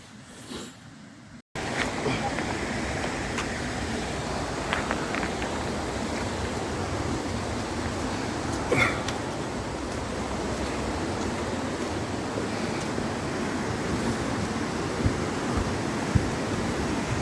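A cold river rushes under a solid old bridge in a chilly Patagonian gully, a steady close wash of water that begins abruptly after a brief quieter moment and then holds level throughout.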